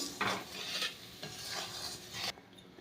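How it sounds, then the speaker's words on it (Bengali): Jaggery boils in a pan while a spoon stirs it, giving bursts of scraping and sizzling bubbling in a steady rhythm, close and clear with no voices. "তো এইবার আমি গুড়টাকে আরও বেশ কিছুক্ষণ ফুটিয়ে নেব"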